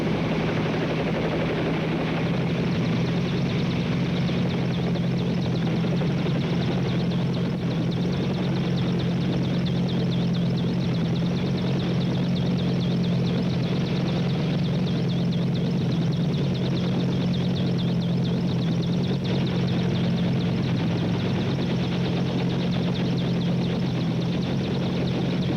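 Helicopter engine and rotor noise, a loud continuous drone with a steady low hum that holds without a break for the whole stretch.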